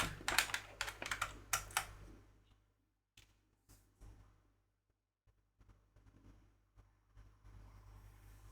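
Quick bursts of typing on a computer keyboard, dense clattering keystrokes at first, then sparse, quieter taps with pauses, heard close up in a quiet room.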